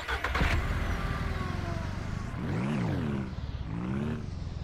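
A car in the farming video game Ranch Simulator drives along with a steady engine drone, rising and falling as it revs up through the gears, heard alone without talk.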